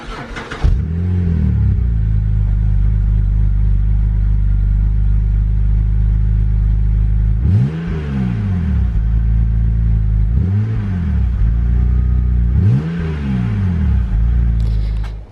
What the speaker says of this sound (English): You really cannot beat the sound of a straight 6 engine.